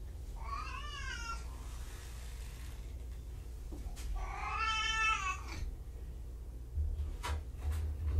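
Kittens meowing indoors, two drawn-out wavering meows a few seconds apart, close and clear over a low steady background hum, followed by a few faint knocks.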